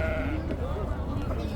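Sheep bleat in a busy Kirkuk sheep market, the animal calls rising over steady crowd chatter and market noise.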